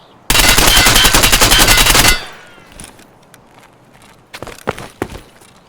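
Assault rifle in Escape From Tarkov firing prone, a loud sustained full-auto burst lasting about two seconds, followed by quiet and then a few separate sharp shots near the end.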